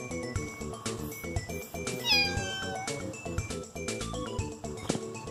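A cat meows repeatedly, several loud drawn-out wailing cries close to the microphone, partly over background music.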